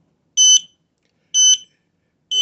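An Aegislink S-RF220 wireless interconnected smoke detector sounds its test alarm: three loud, shrill beeps, each lasting about a quarter second, repeating at an even one-second pace with silence between them.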